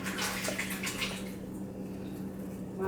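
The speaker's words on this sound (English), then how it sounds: "My water is draining out." Water drains from a kitchen sink with a steady gurgling wash of noise. It is louder at first, then settles into a softer, continuous trickle for the rest of the clip.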